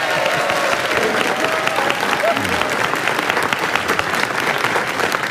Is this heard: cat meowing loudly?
no